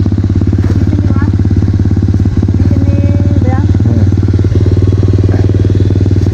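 A trail motorcycle engine runs close by with a loud, throbbing low rumble and rapid steady pulsing, holding even throughout as faint voices come through.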